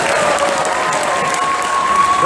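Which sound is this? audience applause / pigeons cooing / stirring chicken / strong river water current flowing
audience applause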